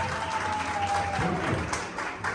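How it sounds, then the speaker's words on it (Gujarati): A small group claps for the winner, Mitbhai, of a balloon game at a Mameru ceremony, steady moderate applause with a voice briefly sounding over it. "મીતભાઈ માટે તાળીઓ લઈ જાય ભાઈ."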